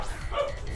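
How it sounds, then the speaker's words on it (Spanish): One short dog bark or yip from a dogs' fight outside a house, muffled and moderately distant, heard against steady background noise. "Creo que hay una pelea de perros afuera de la casa"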